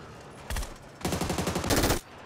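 An MG3 machine gun fires in the video game PUBG: a short burst, a pause, then a longer rapid rattling burst of shots, moderately loud.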